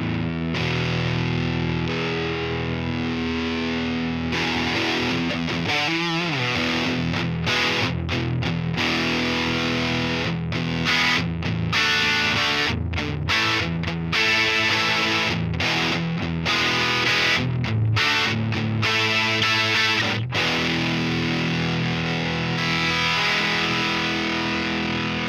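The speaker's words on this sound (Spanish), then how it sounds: "como un pedal de distorsión básico" Electric guitar played through a Rocktek ODR-01 overdrive distortion pedal, with loud, saturated, sustained chords and choppy muted stabs running continuously for the whole stretch, no talking.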